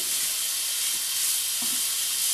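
Ground beef sizzling in a frying pan, a steady soft hiss of frying with occasional faint stirring scrapes, no talking.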